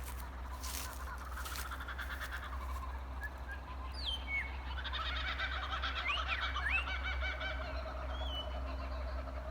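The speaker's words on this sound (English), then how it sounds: "That's kookaburras. They're the laughing birds of Australia." Kookaburras call in the Australian bush, their rising, cackling laughs faint and distant over a steady low hum of outdoor ambience.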